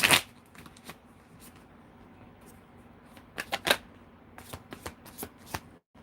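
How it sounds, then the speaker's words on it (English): Tarot cards being shuffled by hand, a sharp riffle at the start, then soft scattered flicks and slaps with a louder burst of riffling midway, close and quiet. "Do one more shuffle."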